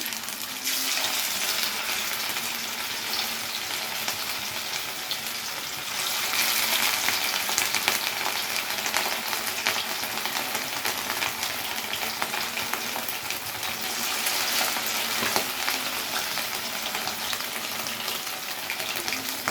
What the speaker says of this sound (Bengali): কড়াইয়ের তেল গরম হয়ে গেছে, দিয়ে দিচ্ছি মাছগুলো এক এক করে।